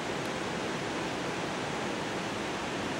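A waterfall around a corner near a hiking trail sends up a steady, dense roar of rushing water, even and continuous from start to finish with no voices over it.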